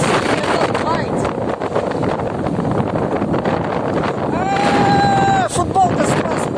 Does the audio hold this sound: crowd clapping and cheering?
no